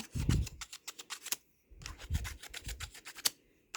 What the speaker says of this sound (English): what you're gonna do with the peg soap is just open it, rub your pegs like so